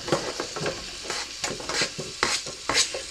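Onions frying in melted butter in a pan, a close sizzle broken by repeated scraping and clinking stirs of a utensil against the pan, with no one talking.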